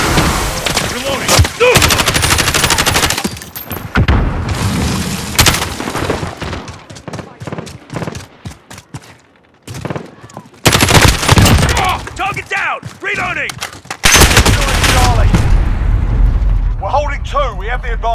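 Dense bursts of automatic gunfire from multiplayer Call of Duty: Modern Warfare Domination, loud and near with rapid rattling volleys, brief pauses, explosions, and radio-style game callouts over the shooting.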